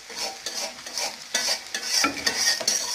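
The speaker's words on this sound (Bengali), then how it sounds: "প্রথমে আটা মাখিয়ে তেলে করে পেঁয়াজগুলো সারা হচ্ছে আস্তে আস্তে, তারপরে ভেজে হয়ে গেলে একটু উল্টে দেওয়া হচ্ছে" Flour-coated onion fritters (piyaju) frying in hot oil, a constant close sizzle broken by repeated scraping and turning strokes of a spatula, with no talk.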